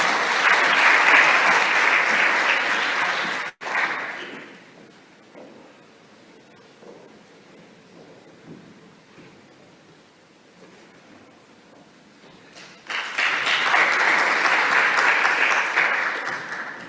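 An audience applauds for the Governor of Bali at a World Water Forum 2024 cocktail party, loud clapping at the start, a quiet pause, then a second strong round of clapping near the end.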